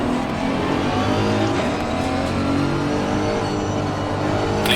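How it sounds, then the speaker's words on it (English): In the Assetto Corsa Competizione racing game, a race car runs alongside on the right, a loud sustained engine roar with shifting pitch and tyre and road noise, continuous and close. "Car on the right."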